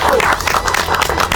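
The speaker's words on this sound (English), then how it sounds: "Let's clap for it." Audience applause at a home chef cooking competition, a dense wash of many hands clapping continuously and fairly loudly, with a few voices mixed in.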